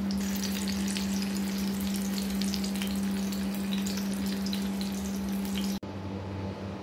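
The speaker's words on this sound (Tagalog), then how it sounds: "ipa-pan fry na po natin siya." Homemade chicken embutido pan-frying in oil, a steady close-up sizzle and crackle with a constant hum underneath, running continuously before dropping slightly quieter near the end; no talking.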